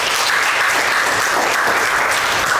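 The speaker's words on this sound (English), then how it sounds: "if you are Ghanaian and you are proud, I think you should give GTP a big round of applause" Loud, sustained applause from a large audience pours out evenly, a thick continuous roar of clapping hands with no talking over it.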